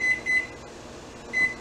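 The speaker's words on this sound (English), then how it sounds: "we're going to set a timer" A kitchen timer being set while cooking spaghetti carbonara gives three short electronic beeps, evenly spaced at first with a longer gap before the last, over a faint room hum.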